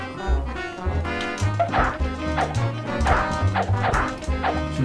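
Dogs bark repeatedly in the SNES game Bugs Bunny Rabbit Rampage, loud and close, with yips and whimpers over busy game music and crash effects.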